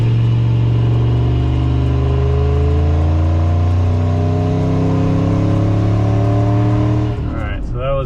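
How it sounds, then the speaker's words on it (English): A stock Ford Triton 5.4 V8 with a boosted setup pulls hard in second gear, a loud close engine roar climbing steadily in pitch for about seven seconds before easing off abruptly near the end. "All right, so that was in second gear."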